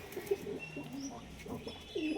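Rajshahi Giribaj pigeon cooing softly: a few low, burbling coos close by over a quiet background.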